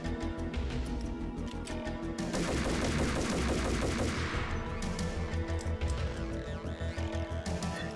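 Shotgun fire in a video game rings out in rapid repeated blasts, close and punchy. The shots keep a steady, near-continuous rhythm over a background game soundtrack.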